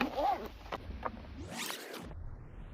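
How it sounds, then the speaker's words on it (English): Zips on a portable espresso machine storage case with a carry handle being run open and closed, a few quick scraping zipper pulls, close and clear with no talk. "the zips open and close nice and smoothly"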